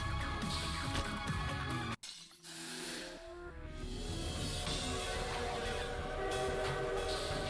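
A train arrives in the video game Lobotomy Corporation with a sharp crash and a brief drop to near silence, then a rising mechanical rumble and whistle-like tones that build and hold steady and loud.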